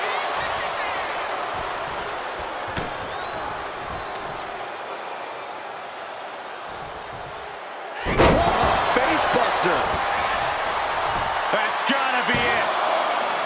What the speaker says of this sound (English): Scooped up, tilt-a-whirl slam.